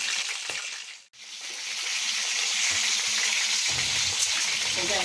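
Marinated bangus milkfish fries in hot oil with a loud, steady crackling hiss that cuts out for an instant, then resumes and holds evenly, close by.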